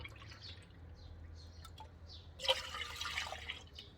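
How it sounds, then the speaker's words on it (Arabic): Milk is poured into a pot by the cup, giving a soft liquid trickle and splash, with a slightly louder pour of about a second near the end, close and fairly quiet. "ادي اول كوبايه، بسم الله. كوبايه تانية اهي"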